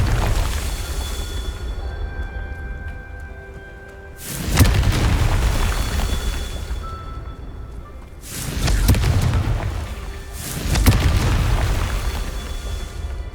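Confringo fire spell explosions in Hogwarts Legacy, three heavy booming blasts a few seconds apart, each with a deep rumbling tail over steady game ambience.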